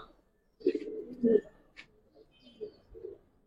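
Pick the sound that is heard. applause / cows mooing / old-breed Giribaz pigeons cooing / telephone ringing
old-breed Giribaz pigeons cooing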